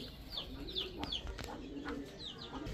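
A pair of Ferozpuri pigeons coo softly nearby in a loft, with a few low burbling calls over a quiet, steady background.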